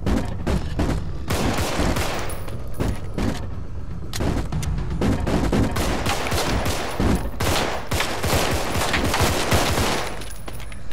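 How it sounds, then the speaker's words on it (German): Rapid gunfire crackles in the zombie shooter game Contagion as boards and zombies are shot, dense bursts of shots and thuds coming in irregular clusters with short pauses, and no talk over them. "Sollte vielleicht weniger auf die Bretter schießen und mehr auf Zombies"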